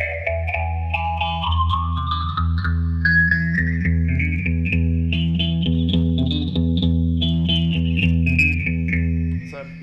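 An electric guitar plays a slow, sweeping melody drenched in a deep, swirling phaser with a wash of reverb, sustained chords ringing underneath.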